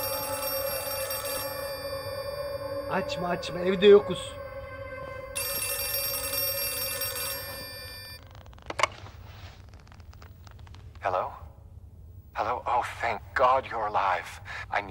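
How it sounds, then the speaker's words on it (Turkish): An old telephone bell rings indoors in the horror game Outlast 2, two bursts of steady electric ringing, with someone speaking briefly between and after the rings. "Telefon."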